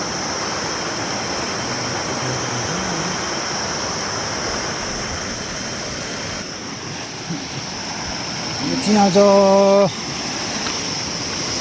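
River water rushes in a constant broad roar, and near the end a person speaks briefly over the flow.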